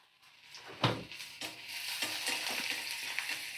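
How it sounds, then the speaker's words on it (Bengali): Chopped onion and green chili fry in hot oil in a pan while being stirred, giving a steady crackling sizzle with scraping strokes and a sharper burst near the start, close and moderately loud. "কাঁচা লঙ্কা আর পেঁয়াজ দিয়ে দিলাম। তো ভালো করে আমি নাড়াচাড়া করে নেব।"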